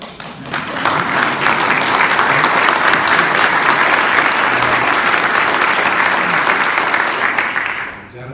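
Sustained audience applause fills a White House event on back-to-school cybersecurity, a dense, loud wash of clapping that swells in quickly, holds steady and fades away near the end.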